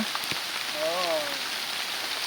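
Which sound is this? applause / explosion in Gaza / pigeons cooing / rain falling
rain falling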